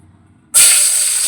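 Chilies dropped into hot oil burst into a loud, sudden sizzle after a brief quiet moment, the hiss holding steady and bright.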